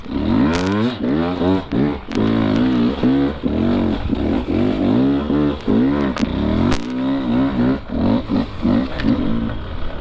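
An enduro motorcycle ridden off-road revs hard and repeatedly, its engine rising and falling through quick throttle blips and shifts, loud and close throughout.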